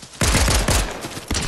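Rapid bursts of gunfire in the video game Fortnite rattle in quick succession, loud and close, with a brief pause before another burst.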